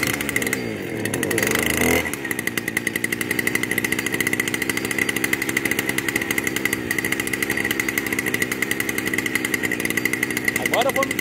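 A Stihl brush cutter with a cold engine is started by pull cord and runs with a loud, steady two-stroke buzz after a brief rough start, while someone talks over it.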